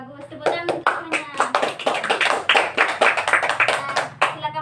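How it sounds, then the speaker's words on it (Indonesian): A classroom of students bursts into hand clapping, a quick, uneven run of sharp claps from many hands close by, with some voices mixed in among the claps. "Tepuk tangan untuk semuanya."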